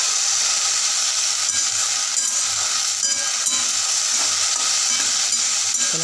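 Okra sizzles steadily in hot oil in a kadhai with onion and tomato, a loud, continuous crackling hiss with occasional soft stirring scrapes close by.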